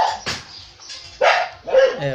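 A few sharp dog barks in quick bursts, fairly close, with pauses between them and some faint background noise.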